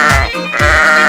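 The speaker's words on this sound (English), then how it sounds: "And look, it's a sheep." A toy farm sheep gives two short bleats a fraction of a second apart, loud and close, with nobody talking.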